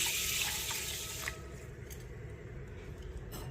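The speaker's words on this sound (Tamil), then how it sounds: "தண்ணி ஆட் பண்ணிக்கலாம்" Tap water poured into a pot of washed green gram with cut potato, a steady rushing pour that is loudest at first and then settles into a quieter running fill.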